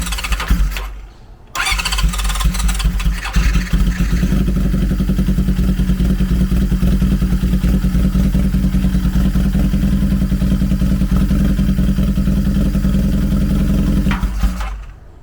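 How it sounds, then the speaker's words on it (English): Honda CB750 motorcycle engine during a spark plug and coil test, cranking and catching after a brief pause, then running loud and steady close by before cutting off near the end. "we're gonna start up the bike"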